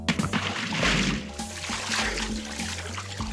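A big rock dropped into a pond makes a splashing, sloshing burst of water that settles into gentle lapping and trickling, fairly quiet and close, with no voices.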